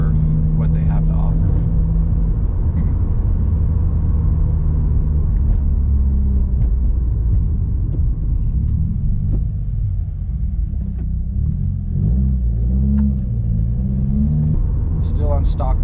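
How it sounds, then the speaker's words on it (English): A 2020 Subaru WRX on stock wheels with new Fortune Auto 500 coilovers, driving on a road with a steady, loud low engine and road rumble heard from the cabin while someone talks over it. "this is our usual test drive route after doing an install like this"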